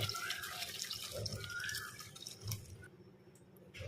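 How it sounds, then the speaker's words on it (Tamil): Hot water trickles and splashes over a goat leg in a kitchen, a soft pouring stream with drips, fairly quiet and close, tapering off toward the end. "ஓரளவுக்கு சூடான தண்ணியை இந்த ஆட்டுக்காலில் ஊற்றிப்போம்."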